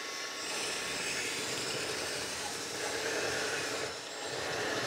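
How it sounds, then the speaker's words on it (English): A 1/14-scale LESU metal hydraulic 636 RC loader with a sound system plays its simulated drive engine noise under throttle, a steady, fairly faint droning rumble with a slight rise and dip in level. "That's the drive engine sound with throttle."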